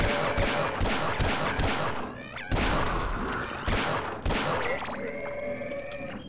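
Shooting at police in the Signal Lost game, several sharp broadband bursts landing at irregular intervals over a busy, cluttered game mix with tonal sounds in the background.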